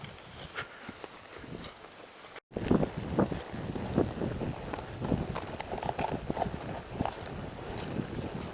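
Horse hooves clip-clopping at a steady walking rhythm, close and clear after a brief cut, with rustling in the background.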